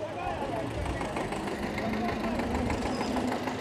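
Around twenty tractors idle at a fodder market in Bhiwani, Haryana, making a continuous low, steady engine rumble with slight knocking, loud and close, with talk over it.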